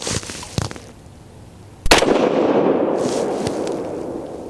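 A single loud .22 ARC rifle shot firing a 62-grain ELD-VT load, a sharp crack near the two-second mark followed by a long rolling echo, with a smaller pop earlier on.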